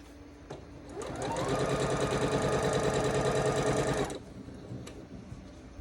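A sewing machine stitching a Mercantile quilt block: one close, steady burst of rapid mechanical whirring that starts up, runs for about three seconds and stops, with quiet room tone on either side.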